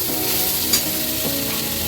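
Vegetables frying in a wok for a vegetarian meal, with a steady loud sizzle and occasional scraping stirs, close by and without voices.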